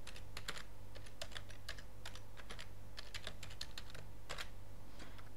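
Quiet, quick keystrokes tap on a computer keyboard as a password is entered, a steady run of soft clicks over a low background hum.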